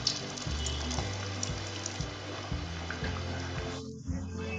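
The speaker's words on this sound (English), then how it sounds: "Now slide this to the hot oil" Masala vada, a South Indian lentil fritter, sizzles as it fries in hot oil on a medium flame, a steady bubbling hiss over a low rhythmic background hum, alone without talk.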